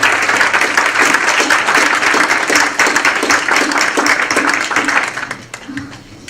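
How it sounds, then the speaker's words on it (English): A large audience at a public policy forum applauds panelists with loud, dense, sustained clapping that tapers off near the end. "please give a huge applause to our panelists today"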